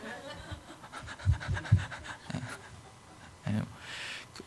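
A voice mimics a puppy's panting and whimpering in several short bursts, rising and falling, during a pastor's church sermon.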